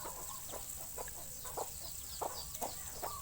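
Chickens cluck in a rural village farmyard, with a string of short, sharp clucks at an uneven rhythm over a constant background hum and hiss.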